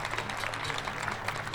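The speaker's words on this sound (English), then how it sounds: "a big round of applause for the TCL for letting us do this here tonight." Scattered applause rises from a crowd at a live show in the Chinese Theater, a continuous patter of clapping hands at moderate volume.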